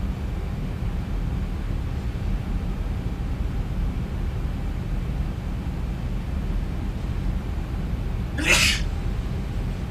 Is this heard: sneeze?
yes